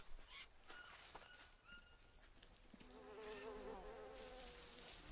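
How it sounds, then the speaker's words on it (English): Flies buzzing in the survival video game Green Hell, a faint droning hum with rising and falling whines, mixed with distant bird calls and soft footsteps in the jungle ambience. "Flies. Is there something dead?"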